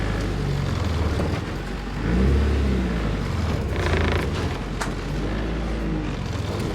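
A Nissan 240SX drift car with no hood pulls away, its engine a steady low rumble that swells briefly as it drives off, heard from close by over continuous road and exhaust noise.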